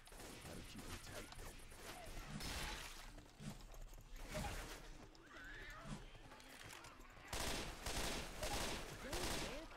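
Gunfire rattles through a Left 4 Dead 2 match in dense, rapid bursts, loudest near the end, with chaotic in-game noise layered underneath and voices talking over the shooting.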